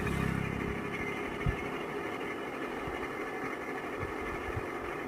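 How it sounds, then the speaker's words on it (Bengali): A sewing machine keeps running on its own after its drive belt snapped, giving a quiet steady mechanical whir with faint rattling and a single soft knock, no voices. "তো রানিং অবস্থায় বেল কেটে গেছে, তাই দেখছি থামছে না"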